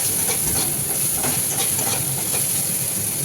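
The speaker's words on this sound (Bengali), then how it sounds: "এবার মশলাটাকে ভালোভাবে একটু কষিয়ে নেব।" Masala of salt, turmeric, cumin powder and Kashmiri chili powder frying in a pan; a close, steady sizzling hiss that carries evenly without pause and with no voices.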